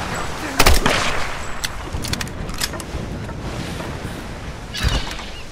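Gunshots in Tomb Raider, a few sharp cracks spaced apart over a rumbling game background, one loud near shot early and another near the end.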